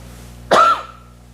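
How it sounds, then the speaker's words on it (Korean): A single sharp cough from a person in a church service, loud and close, rising out of a quiet room hum and fading quickly. "기침할 때는 이렇게 좀 해주시기 바랍니다"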